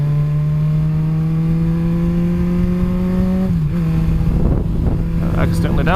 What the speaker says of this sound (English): I accidentally downshifted instead of upshifted and went to first at like 40 miles an hour.